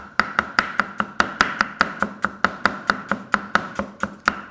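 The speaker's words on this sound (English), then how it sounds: "I'm going to do nice thin slices of ginger" Knife slicing ginger thinly on a chopping board, a quick, very regular run of sharp taps about four per second, close and crisp, with no talking.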